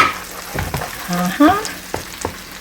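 Onion and chili sizzle and fry in a pan as they caramelize, with a soft crackle under brief stirring clatter and a few faint background sounds.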